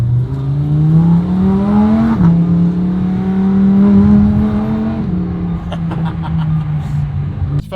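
Lamborghini Huracan Performante engine while driving, a loud continuous drone heard from inside with gentle pitch rises and falls as it accelerates and shifts, steady throughout with no talk.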